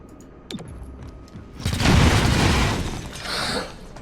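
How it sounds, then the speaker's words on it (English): An object blowing up after being shot in XCOM: Chimera Squad: a sharp crack followed by a loud, roaring blast that swells and then trails off with a second burst, with no speech. "This is going to blow up."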